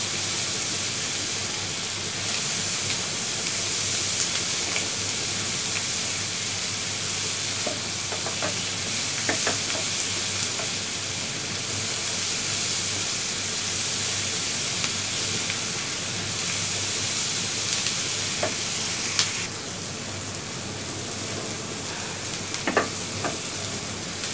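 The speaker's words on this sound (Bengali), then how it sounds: "এখন আমরা পেঁয়াজটা ভাজি করব।" Onions fry in a pan with turmeric and salt, giving a long, even sizzle and hiss from close by, with occasional sharp clinks and scrapes of stirring scattered through it and no talking.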